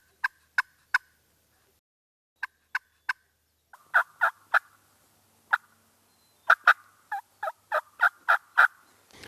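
Wild turkeys gobbling in spring woods during an end-of-season hunt, a series of sharp, rattling calls in short bursts, some clustered in quick threes, others overlapping near the end, fairly close and clear with no talk.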